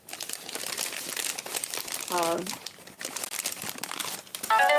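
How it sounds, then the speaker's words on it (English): Wrapping is crinkled and crumpled close by as a vintage thrifted holiday decoration for a Thanksgiving display is unwrapped, with brief voice sounds in between. "Let me get this unwrapped because this is going to be part of our Thanksgiving display."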